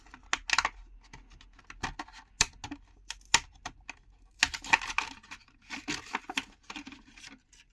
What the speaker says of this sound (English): I'm probably gonna have to rip the entire packaging apart.